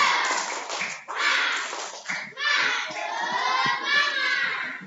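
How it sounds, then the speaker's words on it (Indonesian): Children in a classroom do the rhythmic 'tepuk semangat' clapping routine: loud group chanting in short repeated phrases with quick claps and taps in between. "Tepuk semangat."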